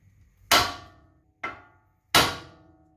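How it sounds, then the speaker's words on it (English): Three sharp metallic hammer blows strike a ball joint on a Land Rover Discovery 3, each clang ringing out one at a time and decaying quickly before the next, loud and close. "just give it a whack right here, it'll shock it"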